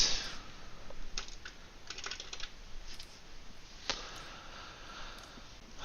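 Soft computer keyboard typing, scattered light key clicks over a steady hiss, close and fairly quiet with no talking.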